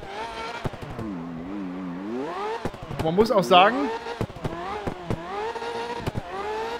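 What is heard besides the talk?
tuned Ferrari F40 engine in the video game CarX Drift Racing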